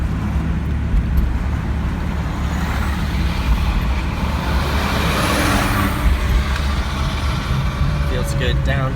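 A 1986 Jeep Cherokee drives along with steady engine and road rumble close by, the low drone holding even through gear changes, with faint hiss and a brief high squeal near the end.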